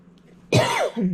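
A single harsh, choking cough bursts out close by after a quiet moment, followed by a strained gasp as the breath catches.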